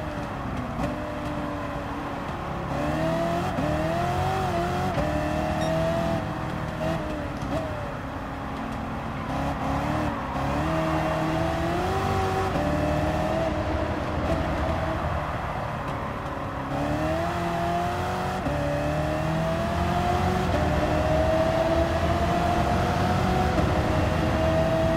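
A 2015 Dodge Charger SRT Hellcat's supercharged engine roars at sustained high revs during a Gran Turismo 7 race on Trial Mountain, its pitch climbing and dipping through gear changes, loud and close throughout.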